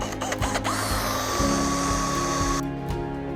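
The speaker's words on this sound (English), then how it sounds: "we've drilled out both sides there" A power drill whines steadily at close range, its pitch shifting as it bites into metal while drilling out a tube end, with a few brief clicks early on.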